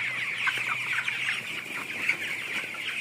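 Broiler chickens on a poultry farm clucking and chirping steadily as a dense flock, a continuous close chorus with no voices over it.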